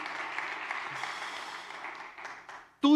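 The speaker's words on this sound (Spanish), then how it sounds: "Dale más fuerte ese aplauso al Señor." A church congregation applauds during a sermon, a steady wash of clapping that fades slightly before a sudden louder burst at the very end.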